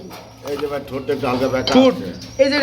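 A pigeon coos over a pet market sale of paired male and female pigeons, its calls close and repeated under steady conversation from several people.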